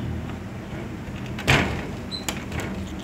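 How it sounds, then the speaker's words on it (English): A hotel room door in Ubud, Bali rattles as someone tries to unlock it with a key, giving one sharp clack and a few lighter clicks over a steady background hum, close by with no talk. "Let's see if I can unlock this door."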